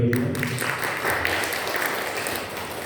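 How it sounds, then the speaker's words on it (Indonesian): A church congregation at a Sunday morning service claps together, a dense sustained round of applause right after a brief voice at the start. "Ini tepuk tangan bagi kita."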